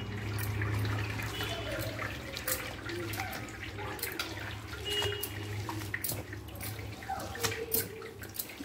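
Water poured into a vessel to rinse the leftover pulp and husk while making thippa sathu, a steady splashing and running-water wash with small clinks from the container, close and continuous throughout.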